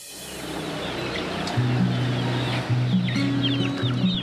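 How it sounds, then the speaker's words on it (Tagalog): Chickens cluck in low, repeated calls over a steady background rush, with several birds overlapping close by. "Inabutan ng aming team si Grigo na nagpapatuka ng mga manok at kalapati"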